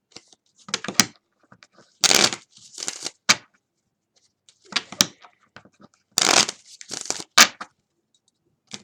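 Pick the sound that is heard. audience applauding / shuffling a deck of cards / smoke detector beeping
shuffling a deck of cards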